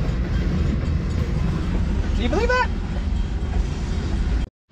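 A train rumbles past at close range with a steady heavy roar, a brief squeal rising through it, as a person speaks over the noise before it cuts off.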